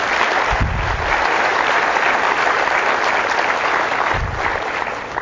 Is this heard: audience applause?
yes